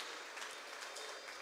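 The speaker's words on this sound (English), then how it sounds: "A big, big hand clap to our Father in heaven." A church congregation claps hands together in a dense, continuous wash of applause filling the room, heard at moderate distance.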